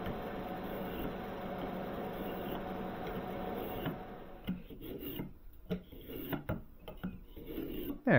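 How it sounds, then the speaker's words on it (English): Hand scraping of a wooden piece, repeated rasping passes, continuous at first and then broken into short separate strokes with pauses, close and fairly quiet. "So you just start in slow, and it takes many multiple passes, so you just scrape and you just go over and over until"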